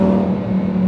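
Lamborghini Huracan EVO Spyder supercar engine held at a loud, steady rev, a brief close droning roar with a strong low tone and no talking.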